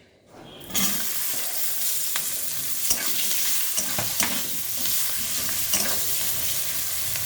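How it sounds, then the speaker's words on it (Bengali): Chopped onion hits hot oil with a sudden loud sizzle, then keeps frying steadily in a fish-curry pan while a spatula scrapes and stirs in irregular knocks, close and clear. "এখন আমি দিয়ে দেব পেঁয়াজ কুচি"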